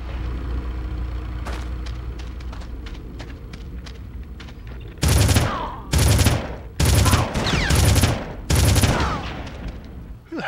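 Turret gunfire in the Red Faction video game comes in five loud, sustained bursts of a few seconds each, separated by short pauses, after quieter scattered shots and background rumble.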